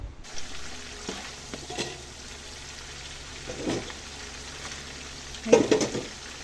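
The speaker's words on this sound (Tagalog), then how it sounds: "Gigisa na natin." Shrimp and vegetables sautéing for a stir-fry, a low steady sizzle with occasional louder bursts of crackling and stirring scrapes.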